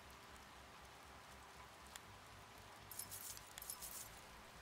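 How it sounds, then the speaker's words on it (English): Rain in the Scrapping Simulator video game, a faint steady hiss of falling rain with a few brief brighter patters and light clinks near the end, no talking. "This is getting dark and rainy out."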